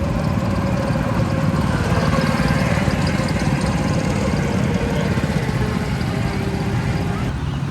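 Go-kart engines run at a park's small kids' track, making a continuous, loud, buzzing mechanical drone with a rough, vibrating texture that holds steady throughout.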